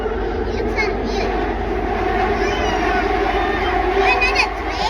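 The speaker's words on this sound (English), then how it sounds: "Another train." An urban rail train in Kuala Lumpur rumbling and clattering steadily, heard from on board with a continuous loud drone and passengers chattering in the background.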